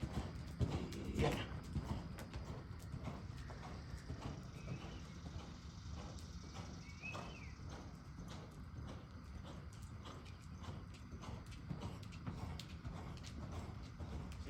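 Hooves of a racehorse being ridden in training clip-clop in a steady rhythmic beat, moderately close, under a constant background rumble.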